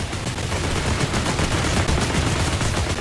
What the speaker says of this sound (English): He's firing at where he thinks we're going, and he's not missing by much.